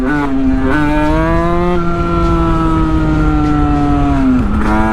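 A Sherco Supermoto 50 motorcycle with a big bore kit on an AM6 engine pulls through second gear, its loud, close whining engine note holding steady and rising in pitch, with brief dips at gear changes or throttle shifts.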